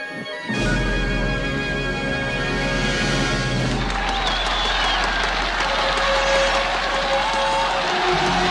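Applause breaks out for a goal in a film scene, a sudden swell of crowd clapping and cheering that starts loud and holds dense and continuous for about eight seconds.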